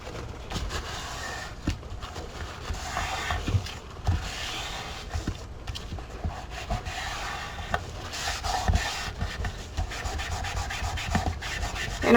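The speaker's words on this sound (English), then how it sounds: "And I'm just burnishing it down." Paper is burnished down onto a baby album page with repeated rubbing strokes, a close scratchy scraping texture that rises and falls in quick irregular passes.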